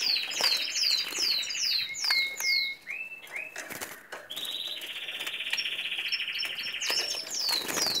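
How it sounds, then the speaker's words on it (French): A cluster of small caged canaries chirping and twittering nonstop, high and bright, with quick overlapping calls close by. "on a toujours des oiseaux"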